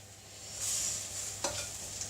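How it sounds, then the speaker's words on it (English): Ribs sizzle in a hot pan while being stirred: a steady close frying hiss with a brief scrape of the stir partway through, no voices. "if you can hear them sizzling"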